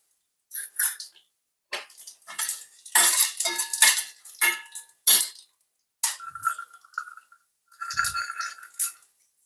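Black pepper, cumin and poppy seeds go into a pan for a traditional saaru, with close, bright metallic clinks and rattles of a spoon and pan in several separate bursts and short silences between.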